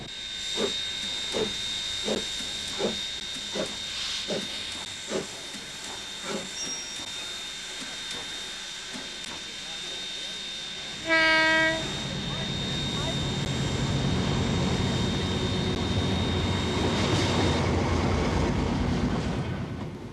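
Rhythmic chuffing of a steam locomotive beats steadily, then a sharp whistle blast sounds, followed by a rushing hiss and rumble as the train rolls by.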